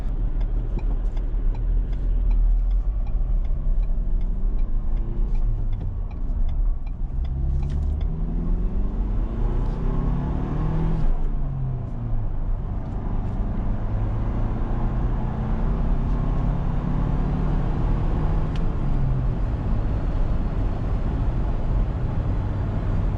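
A 2022 Ford Bronco Big Bend with a 7-speed manual gearbox drives around town, its steady engine and road rumble continuous and close throughout, with gear-change swells in pitch and no talking.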